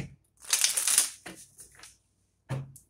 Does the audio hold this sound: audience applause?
no